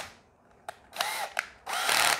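A power drill bores into a battery box while a 24 V 120 Ah LiFePO4 lithium battery pack is being assembled, with three loud, close bursts of whirring separated by brief pauses.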